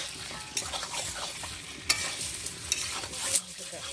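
Chicken pieces just added to spiced oil, frying for a village-style chicken and potato curry: a busy crackling sizzle with quick scraping stirs and a few sharper clacks, close but moderately quiet, no voices.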